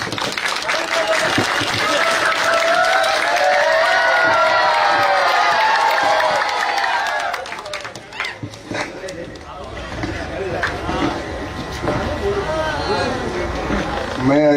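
A large crowd at a Congress election rally in Churu cheers and applauds loudly and steadily, then someone speaks over a microphone as the crowd noise continues beneath him.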